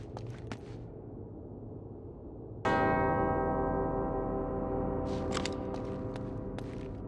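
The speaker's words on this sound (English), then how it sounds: "Two bells resound in perfect harmony." Two church bells ring together in harmony in the Uncharted: Drake's Fortune video game. After a quiet ambient stretch, one sharp strike arrives and the tone hangs on as a long, sustained ring.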